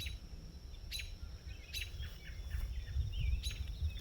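Several songbirds chirp and trill on a quiet Sunday morning beside a flooded farmer's field, short bright calls repeating at intervals over a low steady rumble of wind or distant water.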